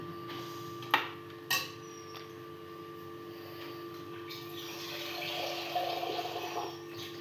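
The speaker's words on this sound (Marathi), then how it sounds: "इतकं पाणी टाकतो आणि वरती पाणी ठेवू" Water is poured into a pan of cooking flat-bean (ghevda) vegetable on a stove, a soft splashing pour rising in the second half over a quiet background, after a couple of sharp clicks early on.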